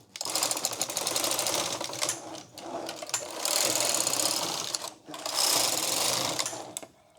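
Knitting machine working rows on a sweater sleeve cuff: loud, continuous mechanical clatter in long carriage passes with brief pauses between them, close and steady, with no voices over it.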